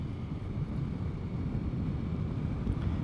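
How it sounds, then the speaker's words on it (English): Strong wind buffets the microphone while riding a Vespa GTS 300 Super Sport scooter, a steady low roar that stays loud and continuous throughout with no talking. "that wind is just, we're right in the teeth of the wind"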